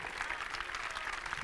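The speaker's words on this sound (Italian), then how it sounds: "facciamo un applauso a Simone allora." Faint, distant applause from an audience at the official presentation of the Carpegna Prosciutto Basket Pesaro 2024/2025 team, a soft continuous patter of clapping.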